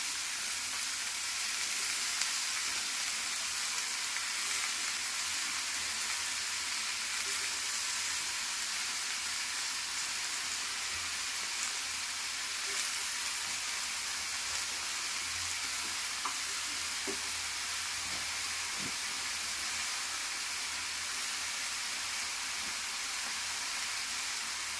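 Washed vegetables hit hot oil seasoned with turmeric, giving a steady, even sizzle and frying hiss that carries on close and unbroken, with faint occasional stirring clinks.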